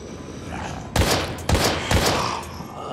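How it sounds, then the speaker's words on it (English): Video game gunfire in Daymare 1998: three sharp, loud shots land about half a second apart, each with a brief rumbling tail over steady background ambience, and no voices. "Okay, two shots."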